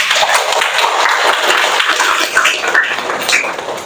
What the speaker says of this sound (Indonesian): Boleh kita tepuk tangan dulu?